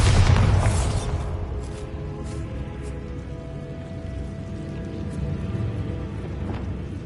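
A Bombarda explosion spell in Hogwarts Legacy lands with a loud boom at the start, then a rumbling, crackling tail of debris slowly fading, with a few faint pops afterward.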